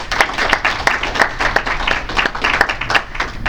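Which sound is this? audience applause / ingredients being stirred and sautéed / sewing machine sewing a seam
audience applause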